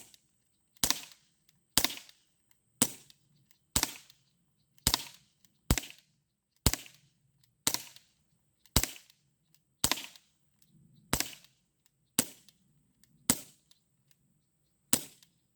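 Fourteen sharp, evenly spaced shots from a Crosman CO2 air pistol, each a crisp pop with a short decay, fired in a steady rhythm roughly one per second, loud and near with no talk.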